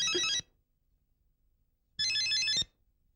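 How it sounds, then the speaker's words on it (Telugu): A telephone ringtone sounds twice, each short melodic burst clear and close, separated by about a second and a half of near silence. "ఫోన్ వచ్చింది."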